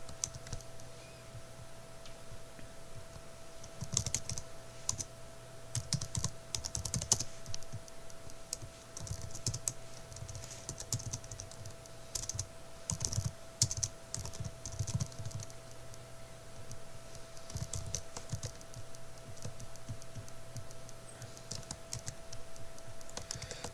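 Typing JavaScript code on a computer keyboard, quiet close key clicks in irregular bursts and pauses over a steady faint electrical hum.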